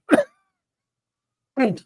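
Two separate coughs, close and sharp, with a long silent gap between them.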